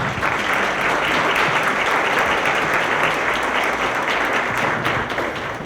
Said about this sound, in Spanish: bienvenida a Geraldina González de la Vega, para quien pido un fuerte aplauso, mucho más fuerte que el de acá.